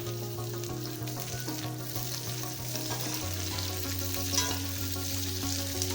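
Capsicum and green chillies fry in a pan with ginger and garlic, giving a steady, even sizzle that runs the whole time, with faint tonal music underneath and no talking.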